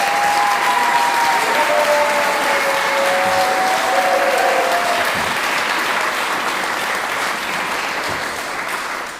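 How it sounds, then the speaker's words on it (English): Steady, sustained applause from an audience at a Scots language awards ceremony, dense and even throughout before easing slightly at the end, with a faint voice or tone briefly audible early on. "could you please join me in a quick round of applause for them?"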